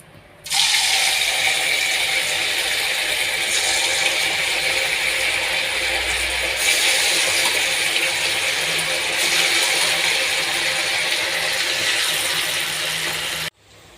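Beef pieces dropped into well-heated oil fry with a loud, steady broadband sizzle that holds for about thirteen seconds, then cuts off abruptly, with no talking.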